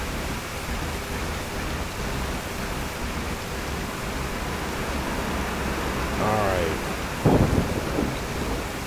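Rain in the city-services video game Cityconomy makes a steady, dense hiss throughout. A couple of short bumps sound near the end, and a voice briefly speaks.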